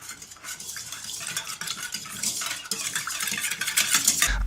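Milk and fresh yeast being stirred in a mixer bowl for brioche dough, a soft continuous swishing and scraping with faint clinks, close and steady.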